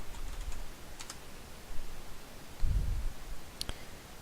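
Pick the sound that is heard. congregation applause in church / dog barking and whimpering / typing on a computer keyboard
typing on a computer keyboard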